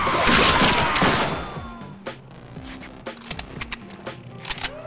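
Rapid bursts of gunfire in the Deadpool video game, a loud opening volley followed by sharper scattered shots over a music bed.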